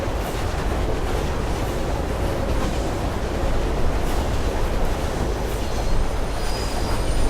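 A train rumbles steadily through a tunnel in the video game Mirror's Edge, a dense, continuous roar of wheels and carriages with faint squealing, loud and close throughout without any voices.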